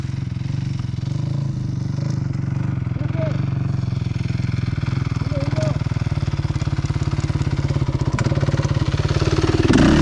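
A motocross motorcycle engine runs on sand in first gear, a loud, steady, close-up rattling drone that holds throughout, with people talking over it.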